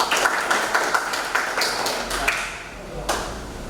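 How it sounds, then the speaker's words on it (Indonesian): A class claps hands in a quick, light series of taps, thin and not very loud in a classroom, fading into a few scattered claps. "tepuk tangan."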